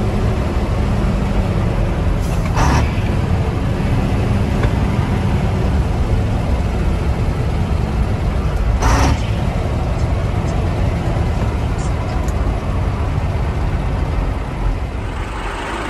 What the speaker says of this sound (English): The engine has a completely different tone when it's really pulling.